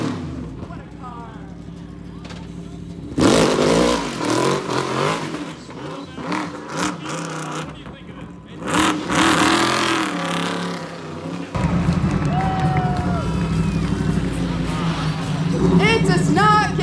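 A Red Bull race car roars past at a downtown Minneapolis showrun, with loud bursts of revving and passing engine noise, a crowd and spoken commentary around it.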